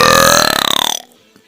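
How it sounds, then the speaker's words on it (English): A loud, deep, drawn-out burp rumbles for about a second, close and forceful, then cuts off into near silence. "Burp."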